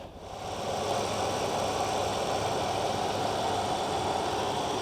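A 4.3 Vortec V6 in a 1995 Chevy Blazer runs steadily under the open hood, a constant close mechanical drone with no voices.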